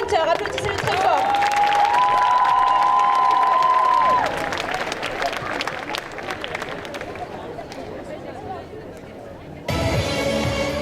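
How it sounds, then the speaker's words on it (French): A convention crowd at a cosplay show applauds and cheers a Hisoka cosplayer from Hunter x Hunter, loud clapping and whoops mixed with chatter, with a tonal whistle or music early on, fading lower before a louder burst near the end. "on va accueillir avec des gros applaudissements Page Cosplay en Hisoka de Hunter Hunter"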